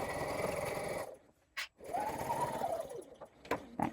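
A sewing machine back stitches the seam of a paper pouch, a short, close mechanical whir that halts, then resumes briefly, followed by soft clicks and handling sounds.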